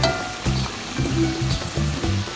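Banana fan fritters (goreng pisang kipas, a Kuantan-style Pekanbaru street snack) deep-frying in oil, a steady close sizzle and bubbling with a few soft clunks of the utensil recurring in a loose rhythm, no voices.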